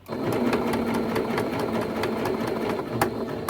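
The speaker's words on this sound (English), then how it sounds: "Now we're sewing that initial gap closed." Sewing machine running steadily, close and even, stitching the binding of a T-shirt quilt closed over the starting gap, with no talking.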